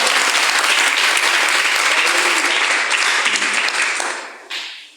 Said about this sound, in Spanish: Ofrenda de palmas al que vive permanente para siempre.